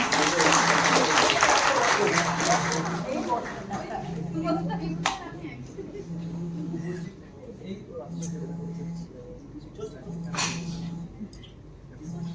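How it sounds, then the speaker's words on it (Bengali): Audience clapping at a television serial press conference, a burst of applause that fades quickly, leaving scattered claps over a repeating low electronic beep, with faint talk beneath. "একটু জোরে হাততালি"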